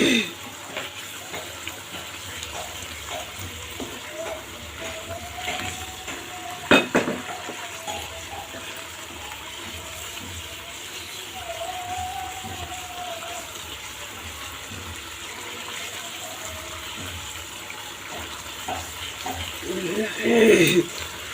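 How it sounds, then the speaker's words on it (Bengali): Katla fish curry is sautéed in a pan, a quiet, continuous sizzle with occasional utensil clinks and stirring, and a voice talks over it throughout. "এটা খুব ভালোভাবে আমি এখন কষাই নিব"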